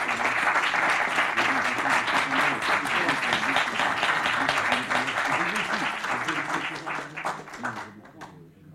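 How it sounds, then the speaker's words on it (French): Applause at an awards ceremony, a roomful of people clapping warmly and steadily with a voice speaking over it, gradually thinning out and fading near the end. "Les applaudissements, s'il vous plaît"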